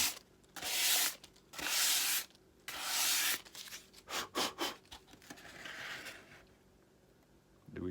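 Sandpaper rubbing over a painted model airplane to smooth it before painting, in several loud back-and-forth bursts, then quicker short strokes, up close with no talking.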